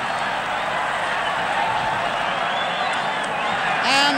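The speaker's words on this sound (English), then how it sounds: "the crowd absolutely tumbling into the field in celebration" A roaring crowd cheers at the final whistle of the 1966 All-Ireland hurling final between Cork and Kilkenny, a dense, continuous wash of distant voices with occasional whoops.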